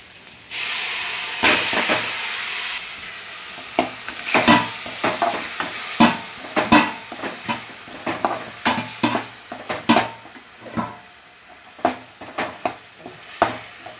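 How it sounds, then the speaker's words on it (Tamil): Crab and ground masala frying in a pan, a steady close sizzle and hiss broken by repeated sharp scrapes and knocks of a spoon stirring, with no voices. "வதக்கிட்டு நம்ம அரைச்சி வச்சுருந்த மசாலா ப்ளஸ் நண்டு இதை சேர்த்துக்கலாம்."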